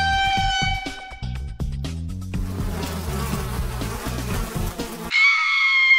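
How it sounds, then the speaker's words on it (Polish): Loud, dense buzzing of a swarm of bees sweeps in over several seconds amid cartoonish game-style music and effects, ending in a higher sustained drone. "Pszczoły."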